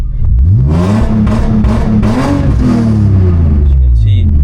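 A BMW E46 engine with MS43 launch control holds a loud, close rev that bounces against the limiter in rapid pulses for several seconds.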